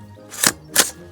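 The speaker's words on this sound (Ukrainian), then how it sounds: "Ну що ж, спробуємо постріляти в замкненому просторі." Two sharp, suppressed shots from an Inter Ordnance 9mm carbine fitted with a sound moderator, firing subsonic brass-cased cartridges indoors, crack out about a third of a second apart in a quiet room.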